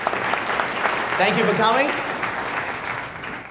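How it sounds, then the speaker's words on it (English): Audience applause for a company team from Europe at a Lenovo keynote, a steady broadband clatter of clapping that runs the full length beneath someone speaking briefly. "So a big round of applause for our team from Europe."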